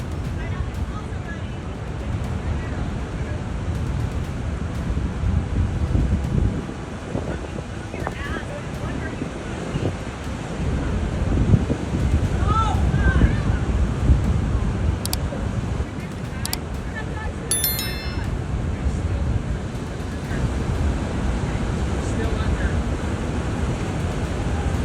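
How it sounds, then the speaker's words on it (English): Towering ocean waves crash onto Oahu's northern shore near beachgoers, a constant roar of surf mixed with gusty wind buffeting the microphone, swelling louder midway, while voices talk faintly over it. "towering waves crash dangerously close to a group of beachgoers"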